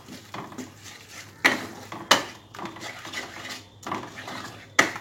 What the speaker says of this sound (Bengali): এবার ডালটা আমি মশলার সাথে একটু ভালোভাবে মিশিয়ে নেব।